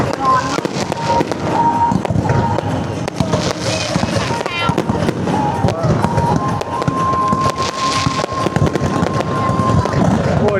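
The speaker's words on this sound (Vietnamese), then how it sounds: "Hôm nay pháo hoa bắn công nhận đẹp thật." Loud, continuous fireworks barrage over Vũ Yên Island, Hải Phòng, with overlapping cracks and thumps in quick succession while onlookers chatter close by.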